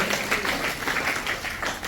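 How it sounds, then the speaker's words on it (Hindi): An audience at a district cabinet meeting gives a short burst of loud, continuous applause for a guest and her group. "तो एक जोरदार तालियां इनके लिए और इनके ग्रुप के लिए"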